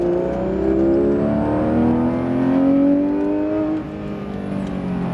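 Porsche GT3 RS engine pulling hard on the La Ferté-Gaucher race track, a loud continuous rising whine heard close from inside the car as revs climb steadily, easing briefly near the end.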